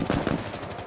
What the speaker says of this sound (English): he shot me through the window, too, on the way out